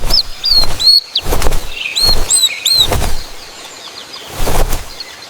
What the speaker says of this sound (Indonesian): Sang ibu melihat si Cempala Koneng sedang asik terbang dan bernyanyi sendirian di